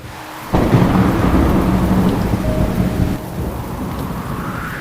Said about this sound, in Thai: ที่ด้านนอกมีฝนฟ้าคะนอง พายุโหมกระหน่ำ